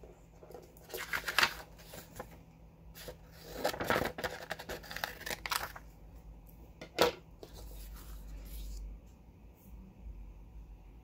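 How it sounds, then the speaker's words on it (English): Scissors snip and slide through sublimation paper to cut the sheets in half for mugs, making a few quiet, scattered cutting and rustling sounds close by. "A pair of scissors, because I am going to go ahead and cut these in half"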